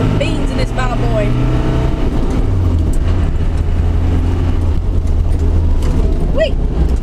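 Land Rover Defender 90 200Tdi driving off road, a loud steady diesel engine drone with shifting pitch and rumbling, close and continuous throughout.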